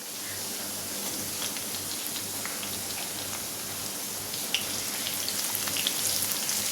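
Chopped okra (bhindi) frying in a pan, giving a steady, dense crackling sizzle that carries on evenly throughout, with a few sharper pops near the end.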